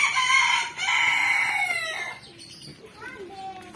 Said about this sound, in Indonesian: Iya itu ayam petelur itu.